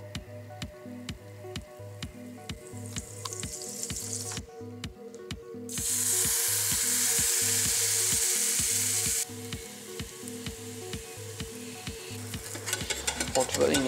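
Protein pancakes with cheese and ham fry in a pan, giving a continuous close sizzle with a louder hissing burst midway, while a steady rhythmic pulsing hum repeats throughout.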